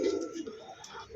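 A pigeon gives a short, soft cooing call, close and clear, lasting about a second.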